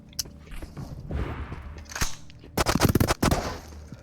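Gunfire from the VR survival game Into the Radius. A single early shot is followed by a mid-clip blast and then a rapid burst of close, loud shots, with a rustle of movement between them.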